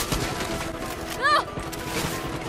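Gunfire in Far Cry 6 during a chaotic fight with a helicopter overhead, a brief burst of shots rising above a dense, noisy game soundscape with voices talking throughout.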